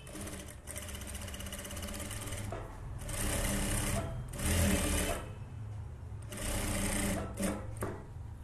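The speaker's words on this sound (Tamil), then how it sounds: "வச்சுட்டு எஜ்ஜு தையல் போட்டுக்கோங்க." Sewing machine running edge stitches along a blouse hook strip: close, rhythmic mechanical whirring in several bursts of a second or two, with short pauses and light clicks between runs.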